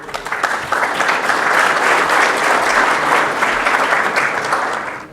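A conference audience claps loudly and continuously after a speaker is introduced for a talk on modern command line tools, swelling quickly, holding steady, then fading slightly.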